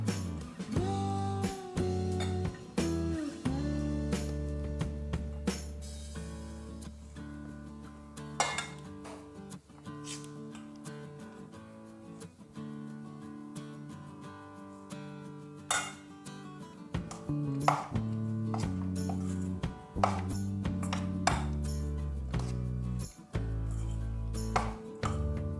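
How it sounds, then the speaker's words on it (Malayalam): Dishes and utensils clatter and clink steadily throughout, with sharp knocks of a spoon against a bowl as thick lentil vada batter is stirred and mixed. "ഇത് നന്നായിട്ട് മിക്സ് ചെയ്ത് കൊടുക്കാം"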